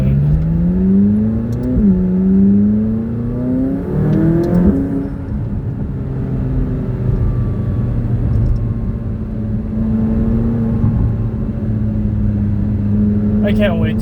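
A McLaren without downpipes accelerates hard, its engine note climbing through rising revs with gear-change dips, a loud raspy roar from inside the car while people talk over it.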